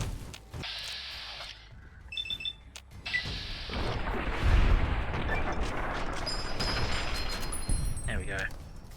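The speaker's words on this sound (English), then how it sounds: "Now everything's exploding." Booming explosions and gunfire erupt in the modded video game Fallout: New Vegas, a dense rumbling barrage building after a few electronic blips, with a voice talking over parts of it.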